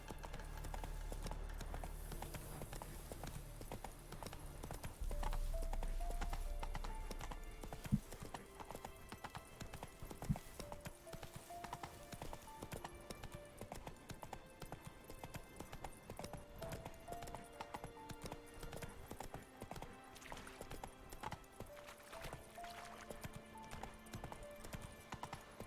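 Horse hooves gallop in a rapid, steady clip-clop rhythm under a game soundtrack, a mount being ridden fast through the open world of The Witcher 3 video game, with a brief neigh near the start.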